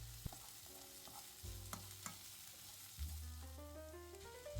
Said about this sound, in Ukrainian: смажимо цибулю до золотистого кольору, не забуваючи її перемішувати